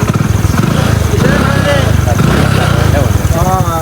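A motorcycle engine runs steadily throughout, close and loud, with a continuous low throbbing drone. Voices talk over it.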